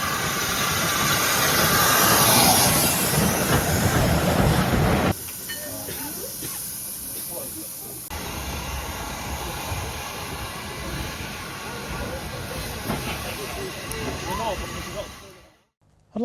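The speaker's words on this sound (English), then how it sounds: "They run a number of beautifully restored old steam locos between Taunton and Minehead" Restored old steam locomotive on the West Somerset Railway between Taunton and Minehead, heard as a loud steady hiss and rumble with rail noise throughout, then a sudden drop to quiet at the end.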